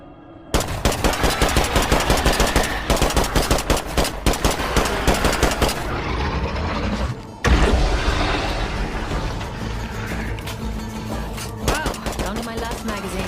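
Rapid automatic gunfire from the survival video game State of Decay 2 rattles in loud sustained bursts, pausing briefly partway through before firing resumes, dense and continuous.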